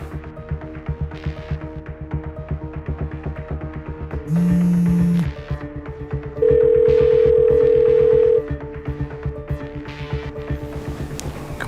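A phone call in an Indonesian drama goes unanswered: two long steady ringback tones sound over a throbbing music bed, one low and brief, the next higher and longer.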